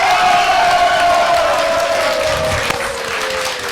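Group cheering and applause, loud and close, with sustained clapping and shouts; a tonal whistle-like sound slides slowly downward throughout.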